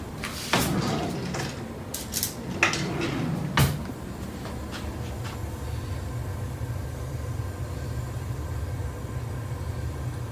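Cutlery clatters in a kitchen as a spoon is fetched, a handful of sharp metallic clinks and a drawer-like knock in the first few seconds, then a quiet steady room hum.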